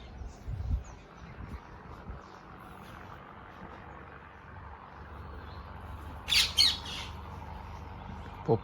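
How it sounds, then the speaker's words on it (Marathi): Parrots squawking in a couple of short, sharp calls at moderate distance, rising above a steady outdoor background murmur. "पोपट गाईज, पोपट"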